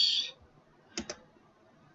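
Two quick computer mouse clicks close together near the middle, then another single click at the end, crisp and close in a quiet room, with a short brighter tick at the very start.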